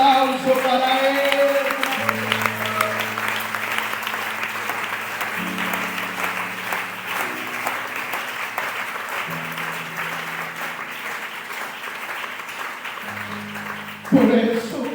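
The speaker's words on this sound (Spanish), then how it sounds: "Mejor ese aplauso para él." A church congregation applauds steadily for a long stretch, a dense even wash of many hands clapping, while organ or keyboard chords sustain underneath and the sound swells briefly near the end.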